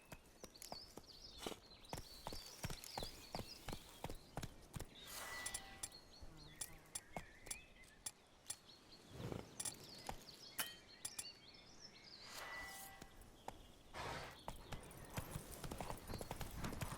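A horse's hooves in The Witcher 3: Wild Hunt, a steady rhythmic clip-clop of close hoof beats running almost throughout, with a couple of brief softer stretches.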